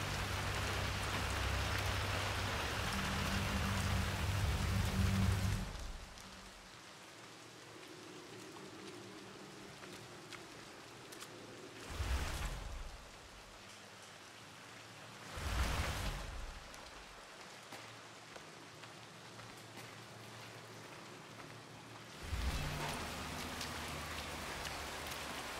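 Steady rain falling in the video game Hitman 3, a dense broadband patter that drops in level after the opening seconds and swells again in a few short surges, with no voices.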